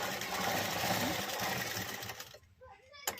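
Electric sewing machine stitching fabric for a dori, a steady continuous mechanical whir for about two seconds that then stops abruptly, followed by quiet and a short clack.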